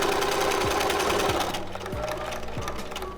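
A sewing machine runs steadily and loudly while stitching a matched seam on a four-square bag, its motor whirring with a fast needle rhythm that eases slightly toward the end, with no talking.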